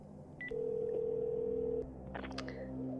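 Telephone tones in a vampire role-playing game scene, a steady electronic tone held for over a second after a short beep, followed by softer dialing blips and a lower lingering tone, fairly quiet and with no talk.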